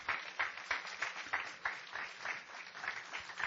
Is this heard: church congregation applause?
yes